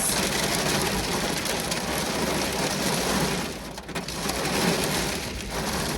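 Hail pelts down hard as ice chunks in a dense, steady outdoor roar, briefly softening midway before surging back, with no voices.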